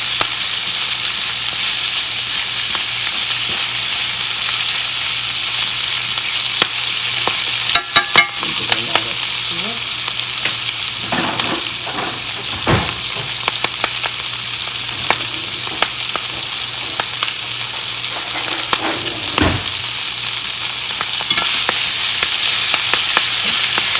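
Shredded collard greens sizzle in a pan of extra virgin olive oil, a continuous close hiss with occasional stirring clatters and scrapes, no voices.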